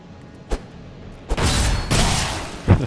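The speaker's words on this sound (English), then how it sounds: "I do like these spontaneous explosions." Explosions in Diablo III land as a few sharp booms and bursts: a brief thud early, then heavier rumbling blasts that swell and linger, with another hit near the end.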